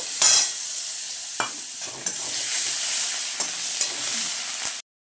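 Turmeric with onion, ginger and garlic paste frying in oil, a steady bright sizzle with a few stirring scrapes before it cuts off abruptly.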